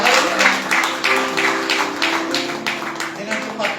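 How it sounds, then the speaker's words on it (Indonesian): A congregation claps during a Sunday worship service in church, dense steady applause with rhythmic beats over several seconds, voices and music sounding beneath. "Tepuk tangan bagi Allah kita."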